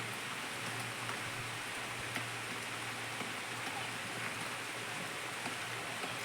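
Steady rain falling outdoors on a ripe paddy field, an even, continuous hiss of drops with no voices.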